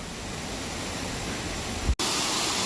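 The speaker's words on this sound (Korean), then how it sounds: "어제 비가 많이 와가지고 완전 폭포네" A waterfall on Bukhansan mountain, swollen after heavy rain, pours with clear water in a steady, loud, broadband roar that cuts out abruptly for a moment near the end before resuming.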